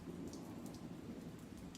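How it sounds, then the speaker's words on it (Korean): Heavy rain pours steadily in a dense, even wash, with a faint low rumble like distant thunder underneath; no voices are heard. "바깥에는 세찬 빗소리가 들렸다"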